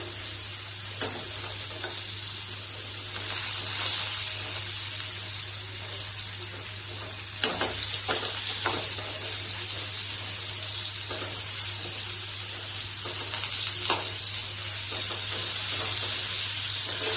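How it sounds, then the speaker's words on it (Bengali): Pointed gourd (potol) fries in oil in a pan for a Bengali dish, a continuous close hiss of sizzling with a few sharp spatula scrapes and clicks, with no talking. "তাহলে এইভাবে আমার পটলগুলোকে ভেজে নিচ্ছি।"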